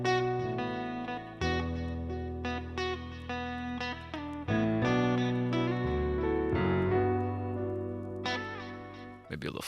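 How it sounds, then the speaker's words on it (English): Electric guitar in a home-studio melody session, played through distortion and delay, ringing out a sequence of sustained, gritty notes with echoing tails, loud and close with no talking. "I'm gonna add distortion on this guitar"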